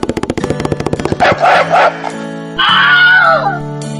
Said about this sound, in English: The dog barked at the ugly duckling